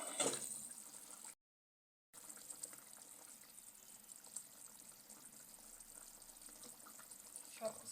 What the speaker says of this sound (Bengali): সিদ্ধর জন্য পানি দিয়ে দেবো এখন।